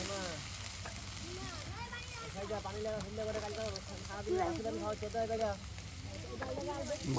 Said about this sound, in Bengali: পেঁয়াজ কিন্তু সুন্দর করে তেলে ভেজে নেওয়া হচ্ছে, আর এখন সেই ফেসে নেওয়া আপনার রসুন দিয়ে দেওয়া হচ্ছে পেঁয়াজের সাথে